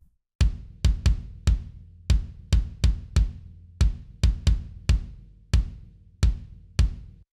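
An unprocessed acoustic kick drum from an industrial rock kit, struck about fifteen times in an uneven pattern, each hit a close, punchy thump with a short decay and no other instruments.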